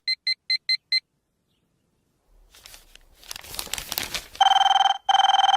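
A phone rings in short electronic bursts, first a quick series of five faint beeps, then after rustling and crinkling, two long loud rings.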